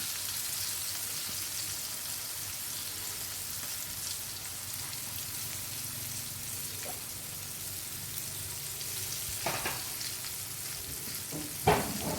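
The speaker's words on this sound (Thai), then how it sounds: "ต้องระมัดระวังเรื่องน้ำมันกระเด็นด้วยนะ" Steady hot-oil sizzle from deep-frying Thai fried intestines, with occasional louder pops and spatters rising above the constant crackle.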